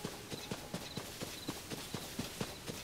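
Quiet, rhythmic hoofbeats of a horse in the video game Tears of the Kingdom clop at a steady trotting pace, faint and somewhat distant, with no voices.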